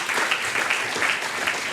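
Audience applause for a professor at an academic year opening ceremony, brisk dense clapping from a hall full of people, steady and fairly close.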